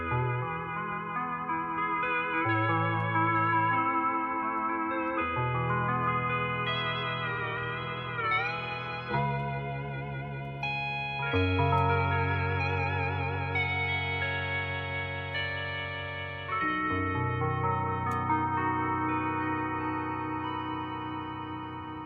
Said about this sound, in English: This is the Hawaiian guitar.